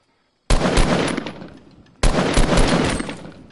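Video game gunfire comes in two loud, close bursts of rapid automatic shots, each cutting in sharply after near silence and tailing off over about a second and a half.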